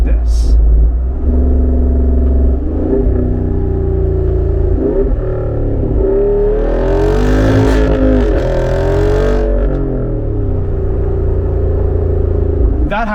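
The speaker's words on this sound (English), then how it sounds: "This thing has a very, very high-pitched V8 sound." A 2023 Jeep Wrangler 392 V8 revs loudly while driving, a raspy, high-pitched engine note that climbs and falls through the gears in a sustained roar.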